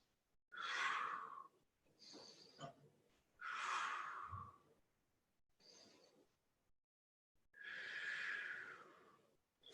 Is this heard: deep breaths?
yes